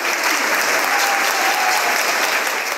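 Colleagues at an energy-sector award ceremony for gas company staff give a steady, loud ovation, dense clapping that fills the room without a break.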